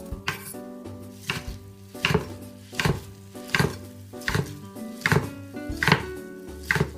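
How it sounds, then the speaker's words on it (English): A kitchen knife slicing aburaage fried tofu into thin strips on a cutting board, with regular evenly spaced chops, close and crisp, and no talking. "Next, cut the Aburaage into thin strips."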